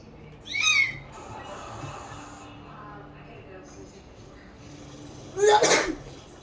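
A single sharp human sneeze bursts out loudly near the start, followed by a quieter stretch of background game sounds and a second loud sneeze-like burst toward the end, during a session of Slime Rancher.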